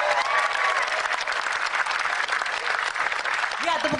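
An audience applauds warmly at a music performance. The clapping is dense and sustained and runs the whole time, with a crowd murmuring under it.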